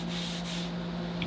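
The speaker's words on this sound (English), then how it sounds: "This one here, I don't know if you'll be able to hear this, hasn't been roughed up, but this one has." Close, steady rubbing of a hand or cloth across a roughed-up boat wall surface, a continuous dry scratchy friction lasting about a second with a low hum underneath.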